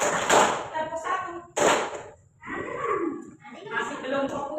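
A classroom of pupils claps on their teacher's command, giving short sharp bursts that stand out between stretches of voices talking.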